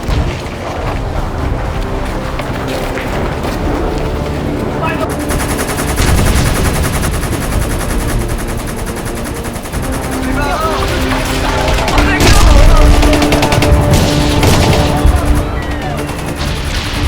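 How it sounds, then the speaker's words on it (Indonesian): Battle film depicting the Battle of Surabaya: a loud, continuous exchange of gunfire with rapid bursts, crashes and booms, layered under shouting and commotion throughout. "Pemuda perisai dan pasukan Gurkha melakukan kontak senjata pertama."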